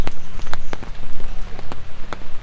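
Rain falls outdoors on a wet, rainy day in Darjeeling near the Mahakal Temple, drops patter and spatter loudly and close in irregular bursts over a steady wash.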